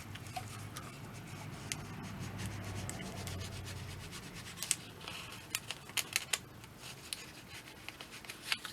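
Scissors working at a strip of tape during cleaning, making a soft continuous rubbing and scraping with scattered small ticks and snips, quiet and close, with no one talking.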